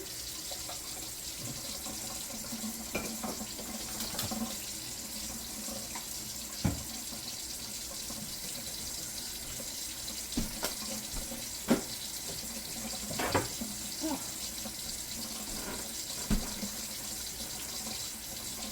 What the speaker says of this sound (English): Let me get some more hot water.